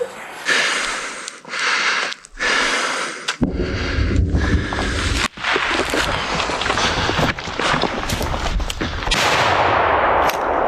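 Gunfire in a combat zone: dense, loud bursts of rapid shots crackle and overlap across the whole stretch, with a few sharper reports standing out and brief pauses between volleys.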